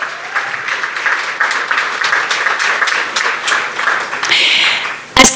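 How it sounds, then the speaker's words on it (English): Guests at a 2024 media fundraiser gala dinner give a sustained, moderately loud round of applause lasting about five seconds, ending with a brief knock or clunk near the mic. "You can give yourself a warm round of applause."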